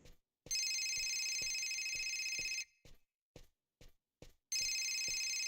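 A phone rings insistently in the video game Fahrenheit: Indigo Prophecy, with a long sustained electronic bell ring, a few short quiet bursts in between, and then a fresh ring near the end. No voices are heard.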